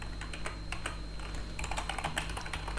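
Rapid typing on a computer keyboard while writing React Native code, with steady irregular key clicks close by, fairly quiet and with no voice over it.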